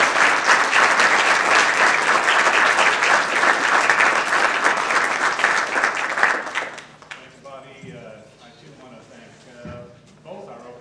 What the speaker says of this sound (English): give our terrific panelists a round of applause